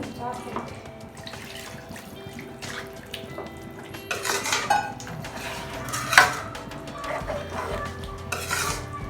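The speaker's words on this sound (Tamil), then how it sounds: "கொஞ்சமாக தண்ணி ஊற்றணும்." Water poured into a pan of chicken green gravy with green masala and coriander leaves, then stirred, with utensils clinking against the pan and a faint trickle of water under the cooking sounds.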